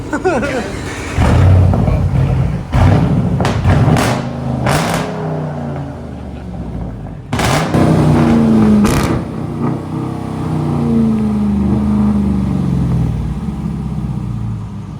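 A straight-piped 2021 Dodge Durango R/T with its Hemi V8 revs loudly nearby in repeated bursts, each sharp blip falling back to a deep, rumbling idle, with someone talking between the revs.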